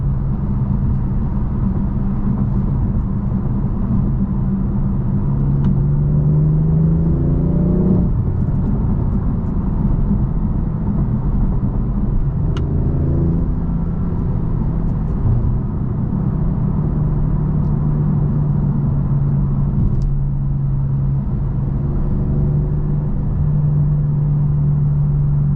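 A 2018 BMW M4 engine pulls hard under acceleration, a loud close drone that rises in pitch through each gear before dropping at the shifts, over steady road rumble.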